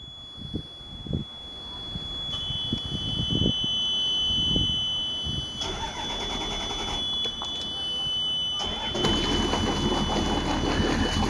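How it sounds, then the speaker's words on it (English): A twin-Yanmar 2001 34 Luhrs boat engine cold starting: scattered knocks and clatter, then a steady broadband engine roar rising in the latter half, with a constant high whine throughout. "this is the 34 Luhrs getting fired up from a cold start."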